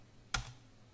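A single sharp keystroke on a computer keyboard, close and fairly quiet, enters a Shift-Control-S shortcut with no other sound around it.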